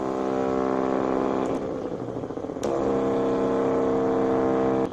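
A small homemade DC motor device whirs with a steady, loud, tonal hum and briefly dips and wavers in the middle before it settles back to an even whine.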